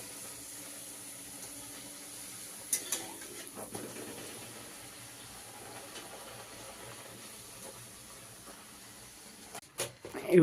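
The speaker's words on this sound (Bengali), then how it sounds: "এই যে লুচি ভাজা হচ্ছে।" Luchi, puffed flatbread, frying in hot oil in a home kitchen, giving a steady soft hiss and sizzle with a few clinks of utensils, then louder knocks near the end.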